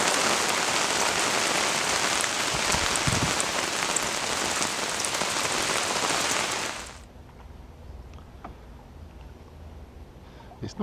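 Rain pours steadily onto a lake and nearby surfaces, a loud hissing patter that abruptly drops away after several seconds to faint scattered drips and quiet background.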